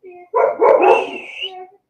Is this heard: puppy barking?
yes